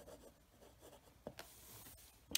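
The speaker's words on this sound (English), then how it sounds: "writing sample right here. So this is with a medium nib." A Ferris Wheel Press Carousel fountain pen with a medium nib glides quietly over paper, giving soft scratchy strokes with a few brief taps, faint and close.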